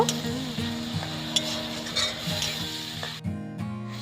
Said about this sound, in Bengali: এবার সমস্ত কিছু খুব ভালো করে নেড়ে নেব